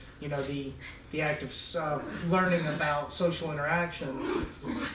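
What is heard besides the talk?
cat and dog fighting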